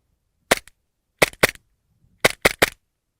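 A full-auto Glock BB gun fires in short bursts, six sharp close cracks grouped in two or three-shot clusters with silence between them.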